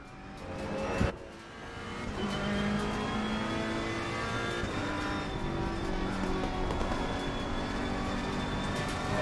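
Racing cars, including battling Ferraris, roar around a track in a racing video game, with engines revving and shifting continuously, one sharp thump near the start, and no talk.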